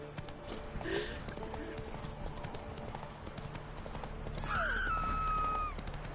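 Horse hooves clip-clop steadily through a ride in The Witcher 3, with a whinny-like cry and game sounds over the top and a rider's voice now and then.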